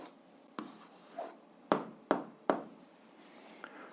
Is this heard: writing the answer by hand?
yes